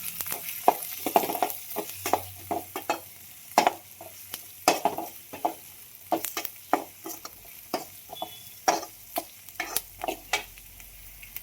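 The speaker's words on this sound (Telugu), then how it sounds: "నెక్స్ట్ ఆనియన్ వేసుకుందాం. ఆనియన్ అయితే బాగా వేగనిద్దామండి." Onion frying in oil after mustard seeds and cumin, a quiet sizzle broken by frequent sharp taps and scrapes of a spoon stirring against the pan.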